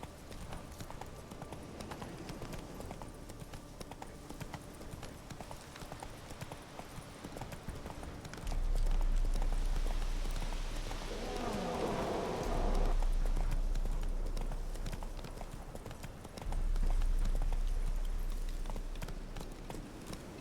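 Hooves clip-clop steadily from a horse galloping in The Witcher 3 video game, a continuous rhythmic pounding that swells louder in a few surges, with a brief voice in the background.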